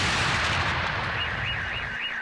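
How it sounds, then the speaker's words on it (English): A sharp explosion blasts near a street by an embassy, loud and rumbling with a broad roar that fades over about two seconds as a faint wavering alarm-like tone rises behind it. "We heard a sharp explosion"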